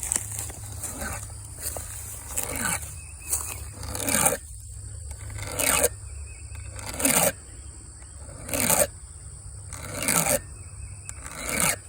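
Chainsaw chain being sharpened with a hand file in a hardwood setting, giving repeated rasping strokes in a steady rhythm, about eight swipes spread across the stretch, close and fairly loud.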